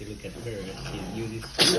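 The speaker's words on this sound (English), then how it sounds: "Sneeze" A pet eating food gives one sharp, brief sneeze at the very end while a person keeps talking throughout.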